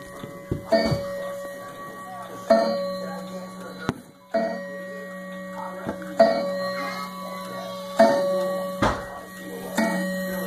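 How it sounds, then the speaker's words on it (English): A clock ticks steadily nearby, with several bright metallic chime strikes ringing out at intervals and a steady hum underneath. "This is the clock you always hear in the videos."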